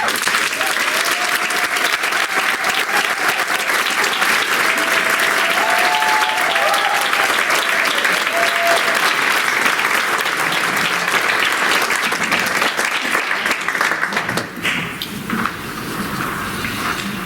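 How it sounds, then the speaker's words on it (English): An audience breaks into sustained applause for a performer, dense and loud clapping that runs steadily before tapering off near the end. "So a big round of applause for Sharon."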